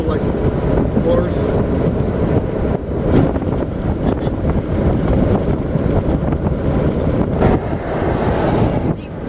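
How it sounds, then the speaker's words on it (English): Wind buffeting an open 2013 Jeep Wrangler JKU on the move, a loud continuous broadband roar with gusty swells throughout; faint voices may be buried beneath it. "You didn't think it'd be windy?"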